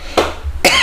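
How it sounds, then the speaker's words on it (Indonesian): Two short, close coughs from a man, separated by a brief pause, the second slightly rougher and louder. "agak sedikit batuk ya"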